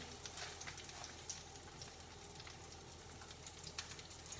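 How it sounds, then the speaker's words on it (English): Sesame-crusted tuna steaks searing in a hot pan, a quiet, steady sizzle with scattered crackles and pops running continuously, fairly faint and with no voices. "I'm going to move it back onto the hot pan"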